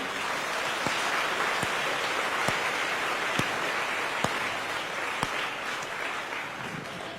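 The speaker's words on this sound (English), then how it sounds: "Please give them a round of applause as well" Applause for the staff and volunteers of the Buddhist Fellowship after a meditation talk: a steady, rain-like crackle of many hands with a few sharper single claps standing out, and no speech.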